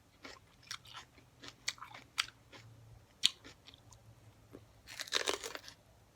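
Someone bites and chews a hot pepper, giving several close, crisp crunches spaced irregularly, then a louder burst of chewing near the end, with no talking over it.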